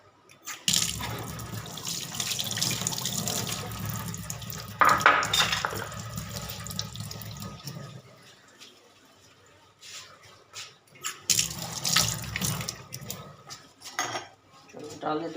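Water runs from a kitchen tap to soak rice, splashing in bursts alongside clinking dishes and pots, with a pause in the middle before the flow resumes.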